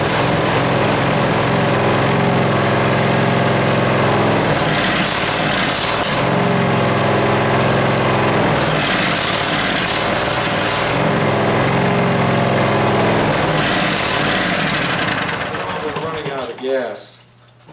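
A 12.5 hp Vanguard small engine runs steadily and loudly at close range for most of the time, then cuts out and winds down near the end, with a voice talking over it.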